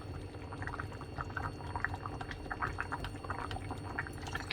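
Soy sauce, Maggi sauce and fish sauce go in by the spoonful, a soft trickling, bubbly liquid sound over a low steady background rumble.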